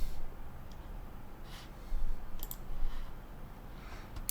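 A computer mouse clicks during web browser work, several sharp, sparse clicks near the microphone over a quiet room hum, with no talking.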